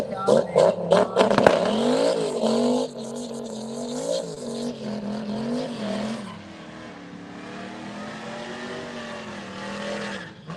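At a drag strip, a turbocharged two-valve 2002 Ford Mustang with a stick shift roars loudly and revs hard at the start, then fades into a sustained lower engine drone while an announcer talks over it.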